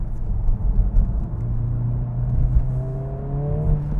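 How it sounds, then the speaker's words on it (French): Honda car engine running and revving with a steady rising whine as the double-clutch gearbox shifts, giving slight jolts between gears; a continuous close interior drone without speech. "T'entends? Le double embrayage."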